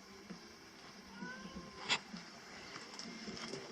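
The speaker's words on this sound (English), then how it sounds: "This is the dog Ben, that is the cat Dave." A house cat named Dave gives a single short meow near the middle of the clip, moderately close, over a low background of music playing in the room.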